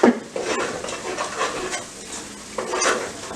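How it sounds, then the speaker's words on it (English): Spoon stirring a thick, still-runny mixture in a pot, soft scraping and swishing strokes repeating at close range, with a brief louder pass near the end. "I'm going to stir a little"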